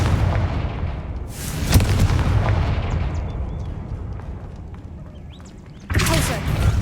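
A Confringo blast spell explodes in the video game Hogwarts Legacy, with one sharp burst near the start and a second loud blast near the end over a steady rumble of game ambience.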